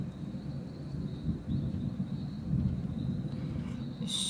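Low, steady rumbling thunder rolls through a rainstorm, a continuous deep roar that swells slightly around the middle, with no voices.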